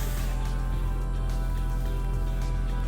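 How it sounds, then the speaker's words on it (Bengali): Soft, steady patter of light rain, continuous and even, over a low engine drone from inside a vehicle moving along a village road in America. "এই হালকা বৃষ্টির মধ্যে আমরা রওনা দিলাম"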